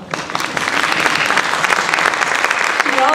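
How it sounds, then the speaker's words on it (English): Loud, close crowd applause at an interfaith coalition gathering, a packed room clapping continuously and energetically through the short stretch without letting up. "I'll let you give her a round of applause right now."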